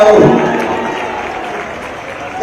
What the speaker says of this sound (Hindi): तो इससे भी जोर से ताली बजाओ ना।